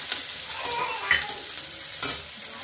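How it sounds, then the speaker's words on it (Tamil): Onion, green chillies and curry leaves sautéing in a pan for vegetable rava kichadi, a steady close sizzle with a few brief scraping stirs of a spoon against the pan. "ஒரு வெங்காயம், 4 பச்சை மிளகா, கருவேப்பிலை, அது எல்லாத்தையும் சேர்த்து இதில் போட்டுருக்கோம். போட்டு நல்லா வதக்கிடுவோம்."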